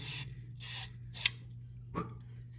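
Pipe end being cleaned and scrubbed while replacing an exterior faucet with a Sharkbite fitting: a few short, close rasping rubs and a small sharp tick over a low steady hum, with no talking.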